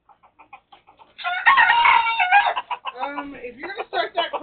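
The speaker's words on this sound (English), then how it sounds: "if you're gonna start that crowing, you're gonna go in your room" Rooster crowing indoors, one loud drawn-out crow followed by several shorter clucks and calls, close and clear, with faint chirps before it.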